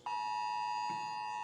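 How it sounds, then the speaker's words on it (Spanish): An emergency alert alarm sounds on cell phones, a steady high electronic tone that starts abruptly and holds continuously, moderately loud, with a brief faint rustle partway through. "nos están avisando de que se llegó la alarma"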